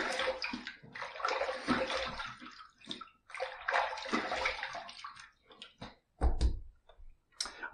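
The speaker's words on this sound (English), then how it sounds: "Let's rinse." Running tap water rinses a safety razor, an Above The Tie Windsor Pro, in a sink: a steady broadband splashing stream broken by short pauses and clinks, ending with a louder burst of water.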